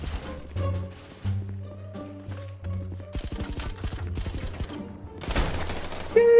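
Shots ring out in a GTA RP zombie match on a FiveZ Brasil server: scattered single cracks at first, then a dense rapid volley near the middle, followed by a loud final burst.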